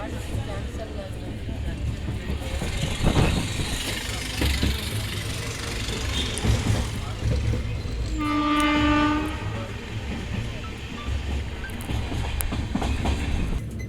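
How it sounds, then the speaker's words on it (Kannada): Jan Shatabdi Express train pulling into Tumakuru station platform, with steady rumbling rail noise throughout and a loud multi-tone train horn blast in the middle; people talk faintly in the background. "ನಮ್ಮ ಟ್ರೈನ್ದು ಪ್ಲ್ಯಾಟ್ಫಾರ್ಮ್ ನಂಬರ್ 2ಗೆ ಬಂದು ನಾವು ಈಗ ಆಲ್ಟ್ ಆಗ್ತಾ ಇದ್ದೀವಿ"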